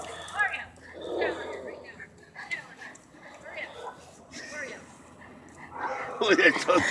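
A dog whimpers and yips between short barks after being attacked by a neighbor's dog in El Cajon, California, while people talk nearby; the cries come in irregular bursts, louder toward the end.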